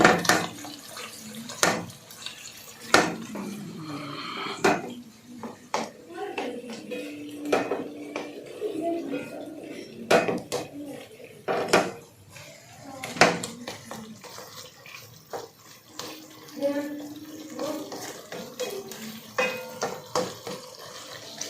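Beef karahi with a little cream is stirred in a pan, giving scattered sharp clinks and scrapes of a spoon against metal over a soft sizzle, while a voice talks intermittently.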